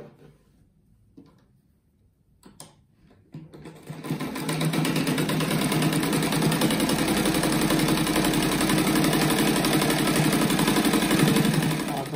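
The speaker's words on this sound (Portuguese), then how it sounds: "Então, daí agora eu costuro aqui." A sewing machine starts up after a few quiet seconds with light handling clicks, then runs steadily and loudly, stitching fabric pieces together for a rug.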